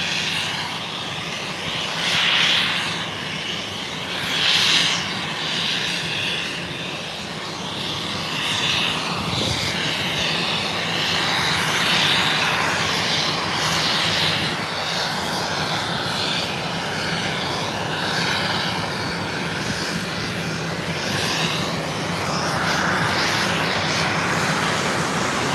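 Loud, continuous roaring hiss of a SpaceX Starship venting gas at night at the Starbase launch site, Boca Chica, Texas, rumbling steadily with slow surges throughout, heard from a distance outdoors.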